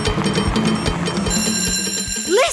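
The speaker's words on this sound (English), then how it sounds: "Listen, that's the school bell." An electric school bell rings steadily with a rapid metallic rattle, close and loud, ending in a rising whistle-like tone.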